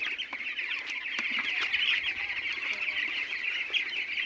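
A flock of 12-day-old broiler chickens on a farm above a pond clucks and chirps continuously, a dense, steady chorus of bird calls at moderate volume with no talking.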